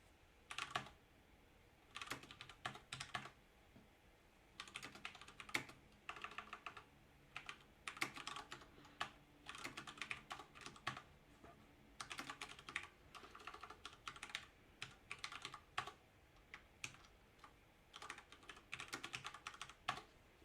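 Java code typed on a computer keyboard, heard as quiet, fairly continuous rapid keystrokes in long runs broken by brief pauses, with no talking.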